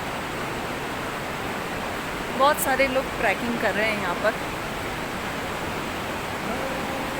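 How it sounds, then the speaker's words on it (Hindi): Loud, steady rushing of river water along a trekking trail near Kasol, on the day trek to Chalal village, roaring continuously throughout, with someone speaking briefly in the middle. "पानी का शोर आप सुन सकते हो कितना ज़्यादा है"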